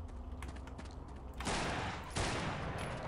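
Rapid automatic gunfire from a weapon in the horror video game Afraid of Monsters, a dense burst of loud overlapping shots that begins abruptly and surges again a moment later, with faint clicking heard before it starts.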